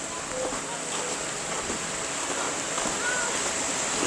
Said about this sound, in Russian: там, наверное, небольшой водопад устроенный